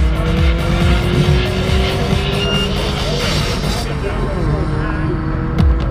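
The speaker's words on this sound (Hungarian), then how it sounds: "3000-es Turbo Diesel BMW a 2 literes OPC Astra ellen." A 3-litre turbo-diesel BMW racing a 2-litre Opel Astra OPC at a speed festival on an airfield: loud, continuous engine roar with rising revs and tyre noise, steady throughout, with faint crowd voices underneath.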